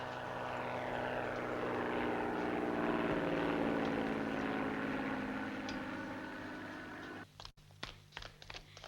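A propeller aircraft coming in to land in a 1965 Gamera monster film, a loud sustained engine drone with a pitch sweep that fades toward the end, giving way to clatter and brief bumps.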